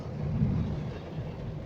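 Thunder rumbles low and heavy through a downpour during a Qatar rainstorm, a dull, continuous roll that swells and fades across the short span with steady rain noise beneath.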